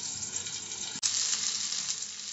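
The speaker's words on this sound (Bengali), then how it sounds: "মাছটা একটু ভাজা হয়ে গেছে" Goan-style recheado mackerel frying in oil over medium heat, giving a steady dense sizzle and crackle throughout, with a brief break halfway through before the hiss resumes, close and loud with no talk.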